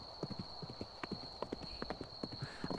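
Horse hooves clip-clopping steadily during a ride, a close, moderately loud rhythmic stream of hoof strikes over a constant high background tone, with no talk.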